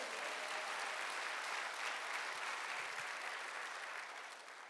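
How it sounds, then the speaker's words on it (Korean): Sustained applause from a church congregation at a spring mountain revival meeting, a dense steady wash of clapping that fills the space evenly and tapers slightly at the end. "하나님께 영광의 박수"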